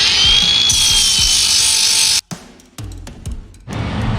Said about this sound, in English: when you put a flap disc on it to sand and buff and blend your metal